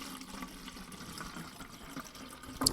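Water pours steadily into a Mr. Elephant watering can, a soft continuous trickle and splash heard close up, with a brief louder splash at the end.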